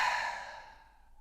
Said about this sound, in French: j'expire d'un coup sec.